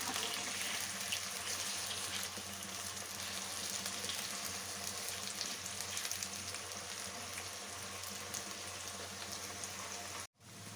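Brinjal pieces fry gently in a pan until soft, with a steady even hiss of oil that runs for about ten seconds and then cuts off abruptly near the end.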